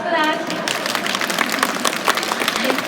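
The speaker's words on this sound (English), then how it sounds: "Let's give him a round of applause for that." Audience applause at a sea lion show at West Edmonton Mall, with dense, steady clapping from a crowd filling the moment, close and fairly loud.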